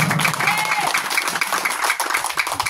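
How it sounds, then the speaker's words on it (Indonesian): A crowd at an outdoor political campaign gathering claps steadily, a dense, even wash of many hands at close range with faint voices mixed in. "Tepuk tangan dulu."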